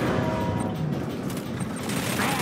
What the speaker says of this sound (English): Ion cannon activated.